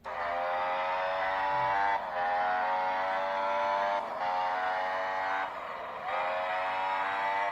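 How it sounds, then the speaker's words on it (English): A Formula One race car engine in a mobile racing game plays on a smartphone, droning steadily and loudly at a high pitch. The tone shifts briefly at gear changes about every two seconds. "So this is me in a F1 car apparently."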